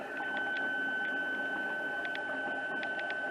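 An Anycubic wash station cleans freshly 3D-printed resin parts, running with a steady mechanical whir and tonal hum plus faint periodic clicks, continuous and close, with no talking.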